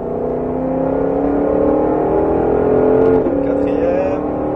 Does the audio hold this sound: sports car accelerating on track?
yes